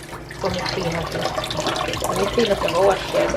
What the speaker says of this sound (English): Okay, so you wash it first, then you clean it and wash it again